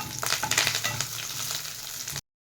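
Chillies, curry leaves and crushed garlic frying in hot oil for a tempering, a dense close crackling sizzle with quick spattering bursts early on, then cutting off abruptly.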